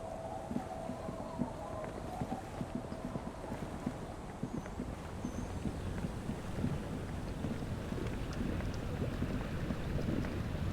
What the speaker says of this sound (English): A skiff with a small steering engine in the back floats on.